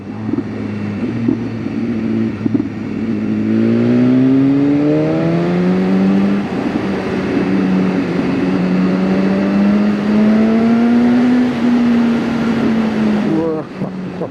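A BMW S1000RR sportbike in race mode pulls hard, its engine note climbing steadily in pitch before settling into a sustained high drone. Heavy wind roar runs underneath, heard from the rider's position.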